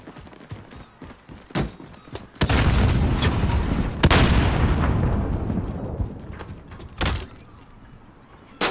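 Grenades going off during a hardcore Search and Destroy match in Call of Duty: a few sharp booms, one long rumbling blast near the middle, then shorter thuds, fairly loud with no talk.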